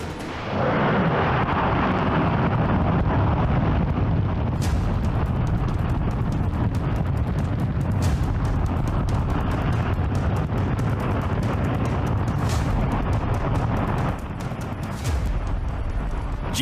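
A J-2X rocket engine roars through a long test firing, a continuous loud broadband thunder with crackling bursts that holds steady for most of the run before easing slightly near the end.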